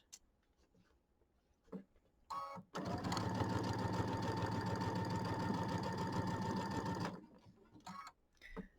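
A sewing machine stitches quilt borders over pins, starting after a few soft clicks and handling sounds and then running in a steady whirring, rapid stitching burst for about four seconds before stopping, with light handling noise around it.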